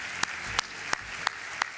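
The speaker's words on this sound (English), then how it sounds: "Please join us in a final round of applause for all of the finalists and winners of the 2019 Idaho" Applause for the 2019 Idaho Innovation Awards finalists and winners at the Idaho Technology Council Hall of Fame event: a dense, sustained wash of crowd clapping with evenly spaced sharp claps cutting through.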